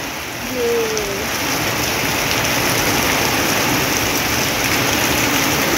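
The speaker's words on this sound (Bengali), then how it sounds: "কি একটা বৃষ্টি আসছে" Heavy evening rain at a fair pours steadily, a dense continuous hiss with a brief voice-like tone near the start and no talk.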